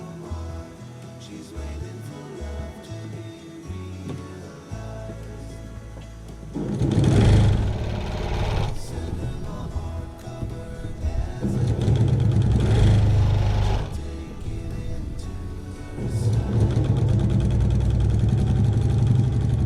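A sewing machine motor runs in bursts at about 1,500 stitches a minute, whirring up loudly several times with quieter pauses between, a fast mechanical drone alone without speech.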